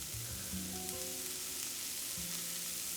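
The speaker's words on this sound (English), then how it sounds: "in with our onion, fry that up until it's almost cooked" Onion and garlic frying in a pan for paella, a steady close sizzle with soft stirring sounds and no talking.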